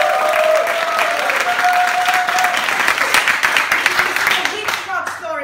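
A theater class show audience claps to vote for a Woody Allen-style story, a dense burst of applause that swells and then tapers off as a voice starts speaking at the end.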